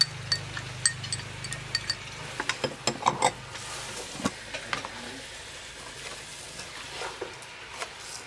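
Stir-frying in a pan, with marinated ingredients, minced shallots and fried garlic being tossed; soft sizzling runs beneath a series of sharp clinks and scrapes of a utensil against the pan, fairly close and irregular.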